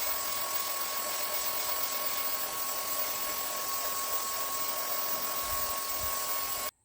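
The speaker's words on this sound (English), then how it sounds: "So I'm going to go and vacuum this one now" A vacuum cleaner cleans the filter of a Daikin Cora air conditioner, giving a steady, loud whining hiss that runs without a break and cuts off abruptly at the end.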